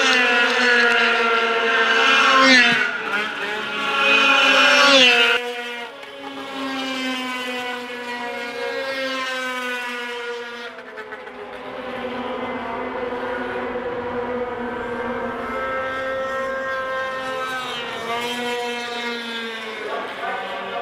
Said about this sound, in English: Sam Gluer from Whitemouth, Manitoba on an 89 Polaris.